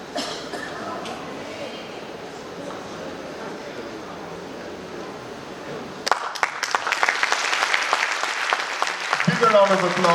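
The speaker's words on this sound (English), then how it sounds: "Big round of applause for the unveiling of the official logo of Barrackpore Cantonment Board." Audience applause greets the unveiling of the official Barrackpore Cantonment Board logo at its 250th anniversary ceremony. The applause bursts in after a quiet stretch and stays strong and full, with a voice starting under it at the close.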